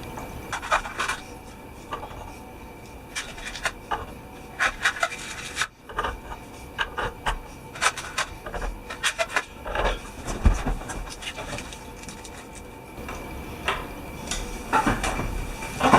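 Small metal washers and nuts being fitted onto guitar tuning machines, giving scattered light clicks, scrapes and rubbing taps at close range over a quiet room, irregular and faint, with no speech.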